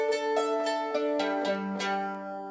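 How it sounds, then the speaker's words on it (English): A mandolin is picked over the neck, giving a muddy, mellow tone. A quick run of bright plucked notes rings out close and clear, with no voices. "you're going to get a very muddy and a mellow sound"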